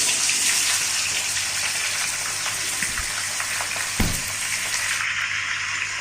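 Hot oil with a bay leaf, dried red chillies and five-spice seeds fries in a pan before cut raw mango goes in for pickle. A continuous loud hiss of sizzling with a couple of soft knocks, and no talking.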